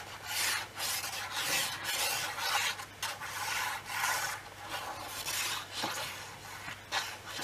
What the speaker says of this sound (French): Donc, on colle.